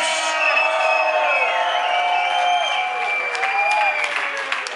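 Crowd at a drum and bass concert in a conference center in Athens, cheering, whistling and clapping loudly in a steady roar that holds for several seconds, with no talk over it.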